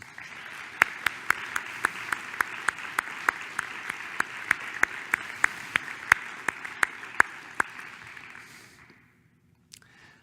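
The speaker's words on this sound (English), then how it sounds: "please join me in giving him a round of applause" A conference audience at a naturalists' society award ceremony gives a round of applause, with a dense wash of clapping and crisp individual claps standing out in a quick, regular beat, holding steady for several seconds before fading to near silence.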